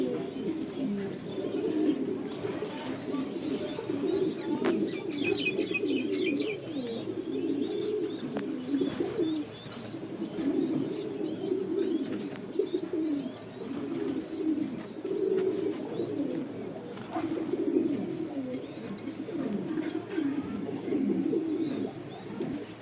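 Many pigeons at a pigeon exhibition, a dense chorus of overlapping low cooing and throaty burbling that continues throughout, with faint chirps and occasional distant human voices in the background.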